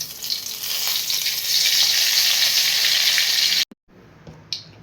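Loud, steady sizzling and crackling of mustard seeds and a dried red chili frying in hot oil, cutting off abruptly, followed by faint kitchen clatter.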